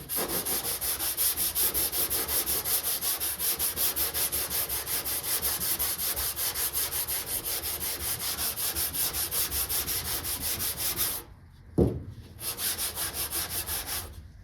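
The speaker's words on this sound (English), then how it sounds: "Let's sand down these last spots, shoot some more primer on it" Body filler spots on a 1979 Plymouth Volare wagon get sanded by hand in quick, rhythmic rasping back-and-forth strokes. The scratchy sanding is close and continuous, with a brief pause and a bump near the end before it resumes.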